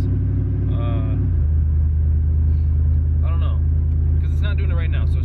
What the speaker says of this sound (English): There's a weird vibration coming from the back.